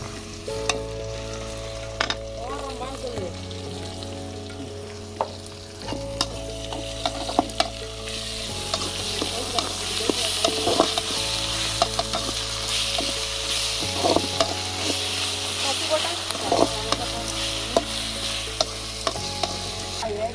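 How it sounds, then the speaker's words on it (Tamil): Ginger and garlic sizzle and fry steadily in a pan for pork gravy while a spoon stirs and scrapes repeatedly, close and continuous, over a low steady hum. "ஓகே. இஞ்சி பூண்டு போடுறேன்."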